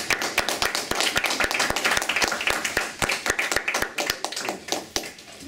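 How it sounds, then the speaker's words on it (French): Small seminar audience clapping in a room, a loose run of sharp, distinct hand claps that stays fairly steady and close for several seconds, with no talk over it. "Donc, applaudissements."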